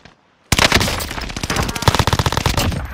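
Rapid automatic gunfire in a video game erupts loudly after half a second of near silence, then continues as a dense rattling burst of shots that fills the rest of the clip.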